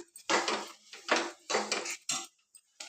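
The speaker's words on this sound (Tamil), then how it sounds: "நாட்டு சர்க்கரையும் கொட்டிட்டு நல்லா கிண்டி விடலாம்." A spoon stirs a ladoo mixture of roasted green gram, red poha and country sugar in a metal pan, giving four or five close scraping, clattering strokes with short gaps between them.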